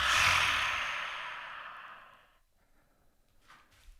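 One long forceful breath exhaled out loud in a yoga class as a lion's breath, a loud breathy rush that fades away over about two seconds, followed by near silence.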